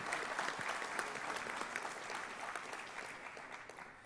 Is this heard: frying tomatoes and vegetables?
no